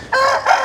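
A mature rooster from a German breeding line, kept by a poultry breeder who raises New Hampshire and Sussex birds, crows once loudly and close by in a strong, brief two-part call.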